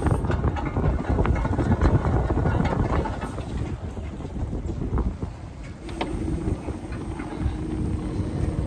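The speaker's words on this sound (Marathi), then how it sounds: "हवा आहे ना एकदम जबरदस्त येते" Strong sea wind buffets a fishing boat out for kingfish and mackerel, a loud gusting roar with rough blustery bursts over low hull and engine rumble, easing slightly midway before swelling again.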